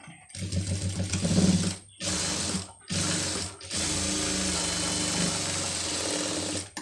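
Sewing machine stitching a seam, a fast steady mechanical whir in several bursts separated by short pauses, the last run longer and continuous, close and fairly quiet, no talking.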